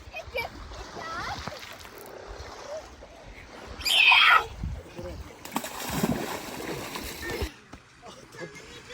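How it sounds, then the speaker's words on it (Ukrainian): Water splashes at a beach on the Kyiv Sea: one loud splash stands out in the middle, and smaller sloshes come and go beneath the voices of adults and someone talking. "хто сляпнув водою"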